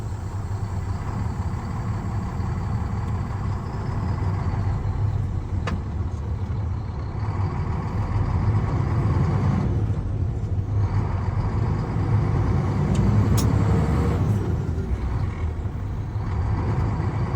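A truck releases its air brakes and pulls away, a steady low engine rumble building as it gets moving, with no talk over it.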